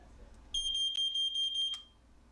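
A smoke alarm sounds a shrill, piercing electronic tone lasting just over a second, pulsing rapidly, clear against a quiet room with nothing else heard.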